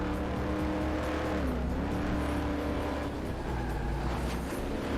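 A race car engine in Corvette: 50th Anniversary on PC drones loudly and continuously as it accelerates in a pro career race, a dense sustained roar with a slight pitch rise and no talk.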